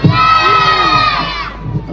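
A crowd at a Christmas countdown event in Newport cheers and shouts loudly for Santa, children's voices prominent in a sustained high-pitched roar that fades near the end.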